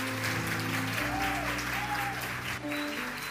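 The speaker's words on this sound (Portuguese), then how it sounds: "precisa dar uma salva de palmas para essa menina" A church audience claps steadily for a girl, a dense, even round of applause from many hands that carries throughout while sustained musical tones play under it.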